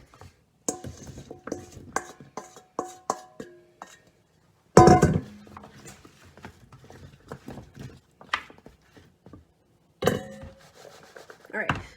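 Roasted butternut squash pieces being spread in a single layer on a metal pan, with clattering scrapes and knocks in uneven bursts, close and clear with short silent gaps.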